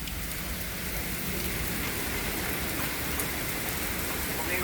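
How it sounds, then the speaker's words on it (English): Heavy rain pours steadily during a very active severe storm, a dense unbroken hiss with no talk. "This storm is very active."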